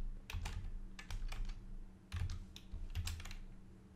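Typing on a computer keyboard, short quick bursts of close, crisp key clicks with brief pauses between them, alone in a quiet room.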